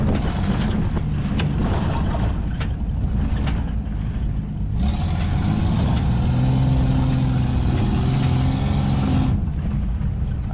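Truck pulling in at a gravel pit, its engine rumbling steadily close by throughout, with a louder, harsher stretch of engine and road noise in the middle before it settles back down.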